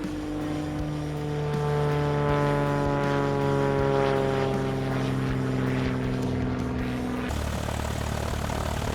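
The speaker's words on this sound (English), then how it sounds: "Here's that C-47 Skytrain I talked about earlier. What a beautiful World War II aircraft, and I'm so glad it's still flying." A World War II C-47 Skytrain flying at an airshow in San Marcos, Texas, its propeller engines droning loudly with a steady harmonic hum that shifts in pitch as it passes, then drops away abruptly near the end.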